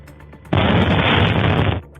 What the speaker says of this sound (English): Russia's much-vaunted air defense system hit a residential building in the Belgorod region with a missile.